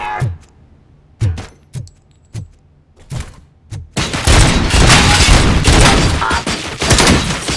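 Gunfire in the shooter game Robocop: Rogue City: a handful of separate sharp shots spaced about half a second apart, then a dense, loud sustained barrage of rapid fire with booming impacts.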